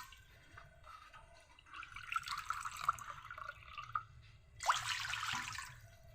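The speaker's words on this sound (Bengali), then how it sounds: "ডো করার জন্য এই বাটি মেপে আমি জল দিব," Two bowls of water go into a pot to make rice-flour dough for spicy pitha. The quiet pouring comes in soft trickles and splashes, with one brief louder gush near the end.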